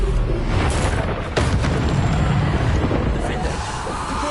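A Depulso spell blast in a video game, a loud booming burst that fills the clip as a dense, thundering rumble with a sharp crack partway through.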